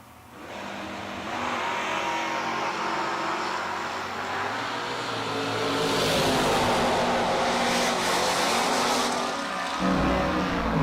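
Drag race cars launch side by side down the strip at a Six Shooter Showdown event, a loud sustained engine roar building after a quiet start, swelling and peaking mid-run before a brief dip and another surge near the end.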